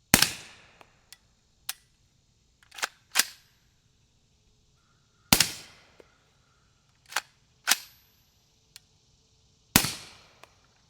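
Subsonic 220 grain Callaway Ballistic loads fired through a rifle wearing a Liberty Mystic X can, giving a string of crisp, muted cracks at uneven intervals with brief ringing decay and faint mechanical clicks between shots.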